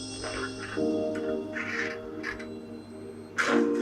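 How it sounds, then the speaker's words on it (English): Several harsh crow caws ring out in short bursts, some paired, over a steady low hum, with one louder call near the end. "Oh, birds."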